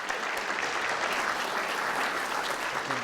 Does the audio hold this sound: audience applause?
yes